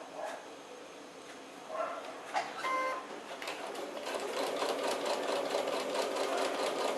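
A sewing machine stitches ribbon onto thick fabric for a small pouch, starting with a backstitch: a few short bursts and a brief pause, then a steady, faint, even mechanical whirr that builds and runs on alone.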